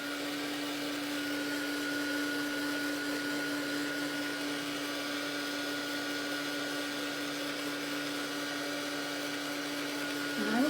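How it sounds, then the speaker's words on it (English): A heat tool blows steadily to dry a freshly painted art journal page, a constant airy whir with a motor hum that holds at the same loud level throughout, alone without talk. "I need my heat tool again."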